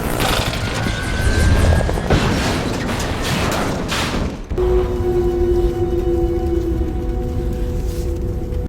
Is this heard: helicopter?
yes